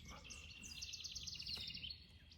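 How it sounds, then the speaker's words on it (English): A tufted titmouse sings outdoors beside a picnic table, a thin, high, rapidly repeated whistled phrase lasting about a second and a half, faint and somewhat distant over soft outdoor background noise. "you probably hear the tufted titmouse in the background there"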